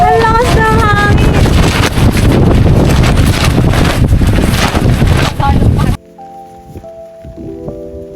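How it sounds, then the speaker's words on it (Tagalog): Loud, roaring wind at a farm campsite in Nasugbu, Batangas buffets the microphone in heavy gusts, then cuts off abruptly to quieter background sounds. "Ang lakas ng hangin!"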